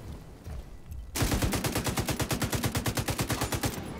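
Sustained automatic gunfire in The Division 2 breaks out after a brief lull and settles into a steady, rapid rhythm of loud, close shots lasting several seconds, with no talking over it.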